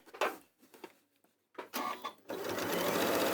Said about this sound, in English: And stitch within the seam allowance.